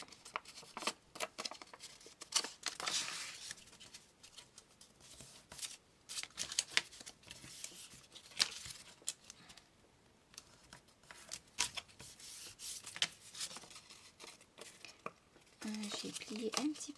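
Paper is creased and folded by hand for a homemade teacher's gift, with soft crinkles and rustles that come in bursts. A voice speaks intermittently over the handling.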